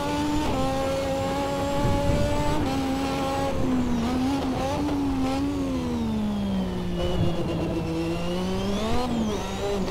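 Lotus 98T turbo Formula 1 car at close range, its engine note holding steady, then dropping and climbing through quick braking downshifts and gear changes, with faint tire noise beneath.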